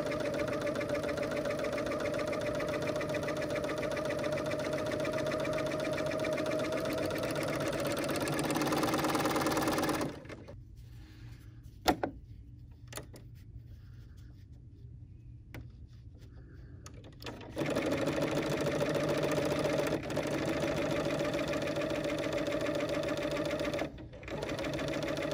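A BERNINA L 850 overlocker runs a flatlock seam in a steady, close whir that stops for several seconds of near silence, then starts again and runs on.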